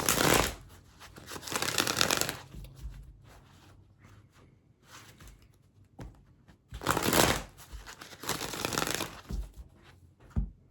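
Tarot cards are shuffled close by in two long riffling bursts with quieter handling and taps in between, with no talk.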